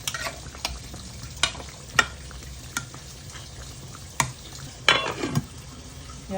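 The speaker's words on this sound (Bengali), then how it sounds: "এই মাছগুলো সব দিয়ে দেবো।" Rohu fish cooks in a pan with raw green tomato, a steady low sizzle broken by several sharp clinks and scrapes of a spatula stirring against the metal.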